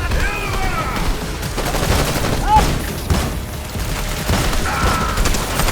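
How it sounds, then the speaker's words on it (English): Pistol gunfire in a video game, a fast run of shots mixed with game effects and explosions under a steady loud action soundtrack, with a voice talking over it. "I'm shredding these guys with a pistol."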